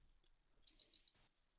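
A computer on power-up sounds a faint electronic beep code, a short thin tone pulsing about three times within half a second, followed by a brief soft click in otherwise quiet surroundings.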